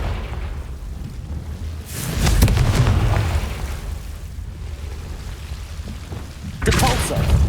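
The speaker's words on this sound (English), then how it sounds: "Confringo!" A Confringo fire spell in the game Hogwarts Legacy bursts into a rumbling, booming explosion with a long low roar. A second burst hits near the end over a constant crackling background.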